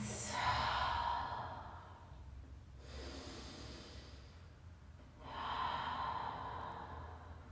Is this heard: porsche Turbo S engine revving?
no